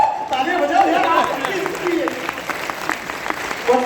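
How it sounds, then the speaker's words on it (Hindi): Applause from a crowd at a Ram Katha religious discourse. The clapping is steady and fairly loud and lasts throughout, and people's voices mix in over it. "तालियां बजाओ यार।"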